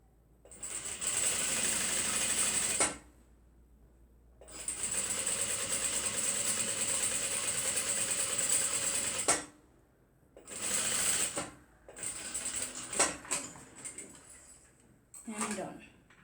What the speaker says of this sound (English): So now we're going to stitch the upper part of the pocket to keep a neat job